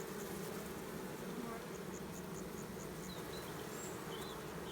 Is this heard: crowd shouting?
no